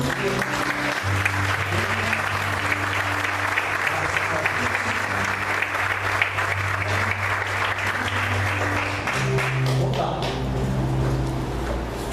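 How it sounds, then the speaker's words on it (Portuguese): Church congregation applauding the Lord in a Portuguese-language service, steady sustained clapping from a crowd throughout, with music or organ tones underneath and a brief voice near the end. "Você pode aplaudir o Senhor"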